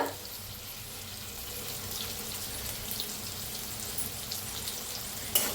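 Sesame seeds roasting in a pan with chillies and garlic, giving a steady, even sizzle and crackle that runs throughout with no talk.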